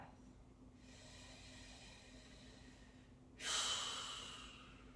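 Deep breath during a relaxation exercise: a soft, long inhale followed by a louder, hissing exhale near the end, close and alone with no talk.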